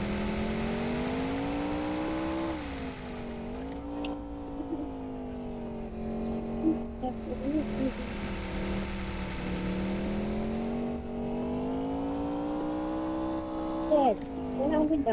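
A Toyota Fortuner drives in an Indian GTA video game, its engine a steady synthetic hum that rises and falls in pitch as it revs, heard continuously under faint background sounds.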